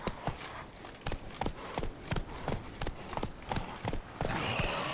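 A horse trots in the video game The Witcher 3: Wild Hunt, its hooves clip-clopping in a steady, regular rhythm of distinct close impacts. A faint wash of ambience rises near the end.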